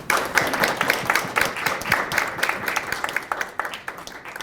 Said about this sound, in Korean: 다시 한번 뜨거운 박수를